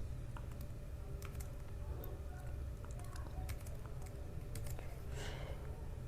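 Computer keyboard keys clatter in quick irregular bursts as HTML headings are typed, close and fairly quiet over a low steady hum, with soft speech faintly present.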